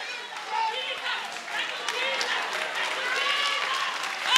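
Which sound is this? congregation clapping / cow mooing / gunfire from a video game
congregation clapping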